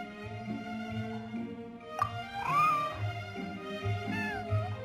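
A white, fluffy cat in the video game Genshin Impact meows repeatedly, with several clear rising-and-falling mews over a steady, layered musical soundtrack.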